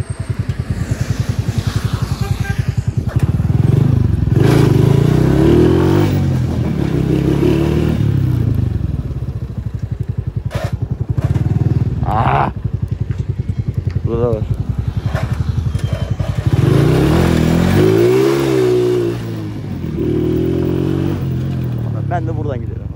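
A Kuba CG 100 R motorcycle ridden on rough, wet roads in Izmir, its engine droning loud and close with revs rising and falling, a few rattles and scrapes, and someone talking over it.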